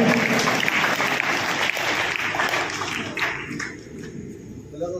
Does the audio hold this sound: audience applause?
yes